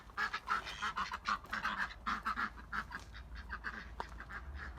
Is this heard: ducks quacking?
yes